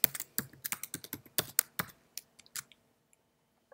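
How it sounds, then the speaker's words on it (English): Close, crisp computer keyboard typing as a variable name is entered, with rapid clustered key clicks that thin out into a few isolated taps. "So just type in the name here."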